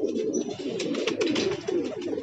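A Kashti pigeon gives a continuous low, throaty coo in close, clear bursts, with nothing else over it.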